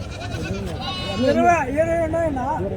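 Sheep and rams bleat repeatedly at a busy weekly livestock market in Pileru, their wavering cries rising over the crowd noise as people talk and haggle nearby.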